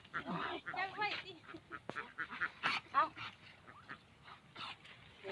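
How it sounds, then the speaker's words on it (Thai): Ducks quack repeatedly in a rural Thai-Lao farm setting, a close, busy run of honking calls mixed with voices talking over them. "เป็ดบุก"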